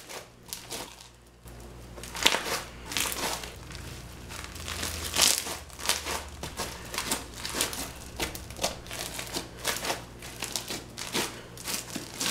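Crunchy slime packed with fishbowl beads is squished and pressed by hand up close, giving a long series of crisp crackling crunches in an uneven rhythm, with no talking.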